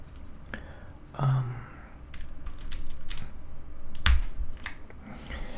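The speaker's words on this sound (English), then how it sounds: "this is a purple clicky switch keyboard" Sparse keystrokes on a purple clicky-switch optical mechanical keyboard, a few scattered sharp clicks and taps at close range with quiet gaps between them.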